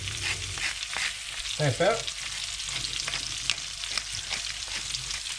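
Garlic and courgettes fry in a pan with a steady sizzling hiss and occasional stirring clicks, while a voice speaks briefly over the cooking.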